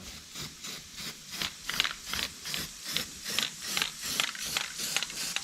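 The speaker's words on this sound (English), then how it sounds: "Then we'll blow it up and hit it with some weld through primer" Weld-through primer sprayed onto bare car body metal on a Datsun, heard as a quick series of hissing spray bursts in a steady, regular rhythm, close and fairly quiet, with no talking.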